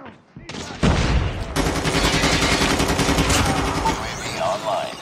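Rapid automatic gunfire rattles in the mobile shooter Call of Duty Mobile, opening after a brief pause into sustained bursts of fast shots with game effects, loud and close throughout.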